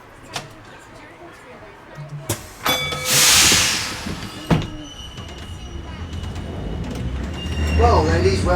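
Auckland Dockline Tram on its loop around Wynyard Quarter, heard from aboard with rumbling running noise, clunks and a loud hissing burst, while a voice talks over it.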